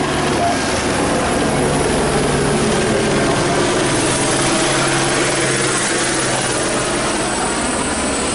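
Helicopter flying over a pier, a loud continuous rotor and engine roar that holds steady and dense throughout, close overhead, with no voices clearly heard over it.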